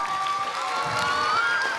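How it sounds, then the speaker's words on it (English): An audience claps and cheers after a children's performance at a summer camp finale, a dense steady wash of applause with a few shouts and whistle-like tones mixed in. "Give it another big round of applause for all these amazing children."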